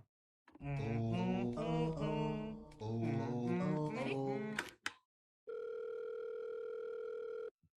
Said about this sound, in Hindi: जादू ने लगाया कृष के पापा को फोन